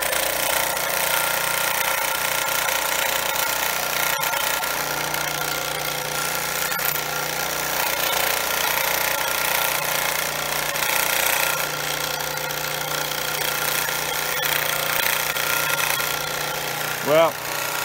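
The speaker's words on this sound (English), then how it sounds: "Well, it's nice to see the old saw working again." Old Craftsman band saw running: a steady, continuous mechanical hum and whir throughout, with a faint tonal whine and a brief click partway, while people talk.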